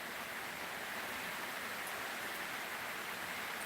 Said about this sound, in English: I love the sound of rain on a tin roof.